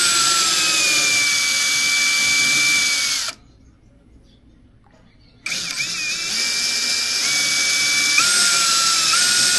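A drill stirs a pot of paint for coating a boat hull, its loud, steady whir running for about three seconds, pausing briefly, then starting again and continuing to the end.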